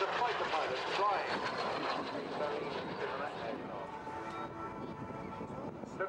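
A historic military aircraft flies overhead at an air force display, probably the Royal Norwegian Air Force Historic Squadron. Its engine drones steadily and fairly faint at a distance, then slowly fades as it passes.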